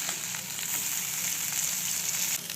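Kilangan dry fish fries in hot oil with a constant close sizzle and hiss. The frying stays steady, with a few faint stirring scrapes and no voices.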